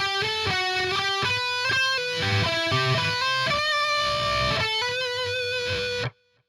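Distorted electric guitar plays the opening solo of a song, a run of quick picked notes and slides over a steady heavy backing, loud and continuous for about six seconds before cutting off abruptly.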